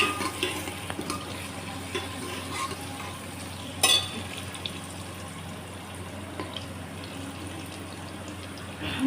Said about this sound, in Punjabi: ਜੀ ਪਿਆਜ਼ ਆਪਾਂ ਪਾਤੇ ਕੜਛੀ ਨਾਲ ਹਲਾਵਾਂਗੇ